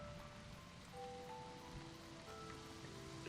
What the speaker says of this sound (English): Oh, the splashes of rain on her back like that.